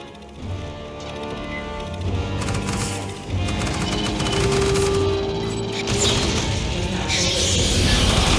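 Sci-fi weapons fire in the video game Aliens: Fireteam Elite on a space station, loud sustained bursts of rapid gunfire with booming impacts and crashes, continuous and dense throughout.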